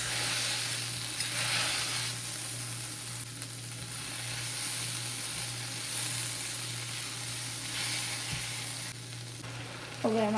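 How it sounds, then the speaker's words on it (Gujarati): Masala is stirred and mixed in a frying pan, a steady sizzle with scraping and rustling stirs over a constant low hum. "હવે આપણો મસાલો થોડો મિક્સ કરી દઈએ."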